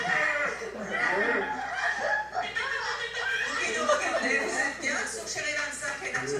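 Several people imitate a horse, a pig and a chicken with snorts, clucks and whinnies. The noises overlap steadily with chuckling and laughter throughout.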